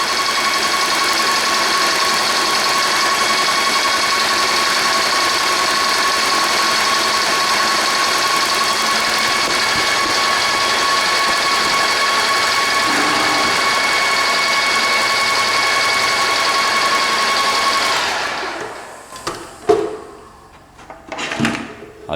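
An airless paint sprayer pump runs steadily, pushing cleaner through the line after oil-based paint, with a loud continuous mechanical drone that cuts off near the end, followed by a few clunks.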